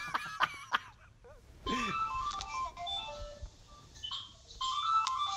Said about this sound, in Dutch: Oh, je krijgt telefoon.